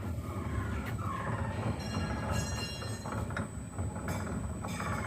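A seed separator driven by VFD controls runs at full speed with a continuous low mechanical hum and rumble, light rattling and faint squeaks on top, steady and fairly close, no talking.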